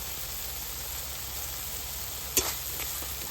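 Ground spice masala of turmeric, cumin, coriander and red chilli powder fries in a pan with a steady, close sizzle, broken by one sharp clatter of a spoon or splash partway through.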